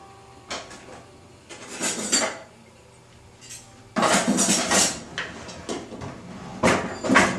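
Fork and spoon handled and set out, giving clustered clinks and rattles of metal cutlery with a few knocks, close by and in separate bursts, with quiet gaps between.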